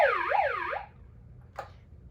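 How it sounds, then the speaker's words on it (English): A loud wailing siren sweeps up and down twice, then cuts off, followed by a short faint chirp in the quiet. "we got to have our siren."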